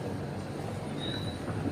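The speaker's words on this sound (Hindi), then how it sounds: "ये अभी ट्रेन है" A passenger train bound for Anand Vihar stands at Jogbani railway station on the India–Nepal border, giving a loud, continuous rail rumble with a brief high wheel squeal partway through.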